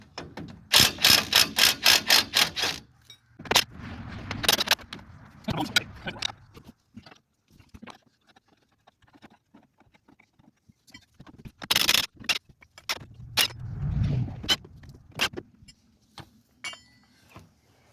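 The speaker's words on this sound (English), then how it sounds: "So I'll take the impact here, get these loose." Impact wrench loosening the leaf spring U-bolt nuts on a truck, in several loud, close bursts of rapid hammering with quiet clinks of tools and metal between them.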